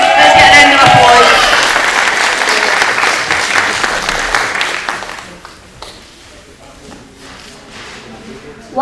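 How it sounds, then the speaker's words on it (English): Audience applause at a children's concert, loud clapping from a crowd that starts strong, tapers over about five seconds and fades to quiet room noise. "Let's get a round of applause."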